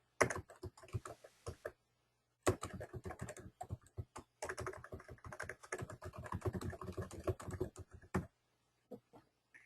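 Close, crisp typing on a computer keyboard entering a title into an online form, with fast bursts of clicking keys separated by short pauses and silence near the end.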